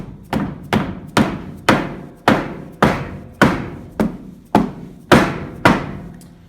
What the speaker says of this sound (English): Just tap that in with my mallet.